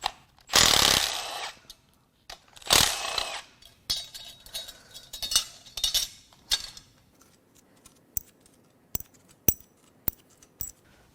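Metal engine lifters being pulled from a grenaded 3.8L V6 Jeep Wrangler JK engine, heard as scattered close clinks and clatters, a few louder scrapes early on, then sharp isolated metallic ticks.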